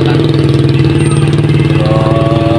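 A newly bought engine, replacing a broken one, idles steadily and loudly close by with a constant low throbbing rhythm throughout, no voices over it.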